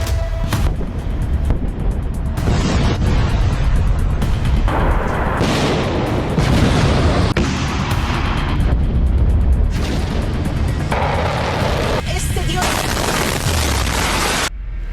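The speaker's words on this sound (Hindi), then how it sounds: "ईरान तेल अवीव को निशाना बना रहा है और इजराइल ईरान के मिसाइल को इंटरसेप्ट कर रहा है" Iranian missile strikes on Tel Aviv being intercepted: repeated heavy booms and blasts that roll on continuously for fifteen seconds, loud and reverberant in an open city setting.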